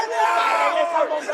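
A crowd at a high school varsity boys wrestling final yells loudly at the scorekeeper in a short, sustained burst of overlapping shouts and whoops.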